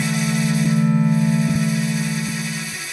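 A steady, sustained synth tone built from a wavetable blended with a sample, with a strong low drone and soft rhythmic pulses, fading slightly toward the end.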